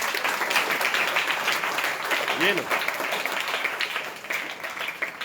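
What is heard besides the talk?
students clapping loudly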